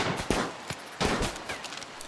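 Gunshots in a RimWorld battle, a handful of sharp cracks spaced irregularly over a steady busy background, moderately loud.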